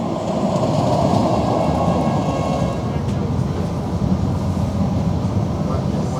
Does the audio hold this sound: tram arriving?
yes